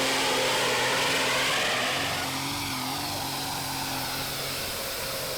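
A heavy tractor-pulling engine roars loudly and continuously at high revs during a full pull at a pulling competition, the pitch shifting slightly as it strains, with a rushing, gritty noise over it.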